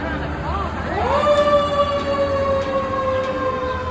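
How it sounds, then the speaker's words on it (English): A Thunderbolt siren mounted on top of a fire station winds up with a rising wail that levels into a loud, sustained steady tone, heard up close over traffic and background noise. "So Thunderbolt Siren is on top of this fire station."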